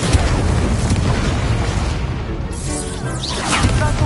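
A roaring, whooshing burst of fire from the Incendio spell cast in Hogwarts Legacy, loud and dense for several seconds, then thinning out into a crackling swish near the end.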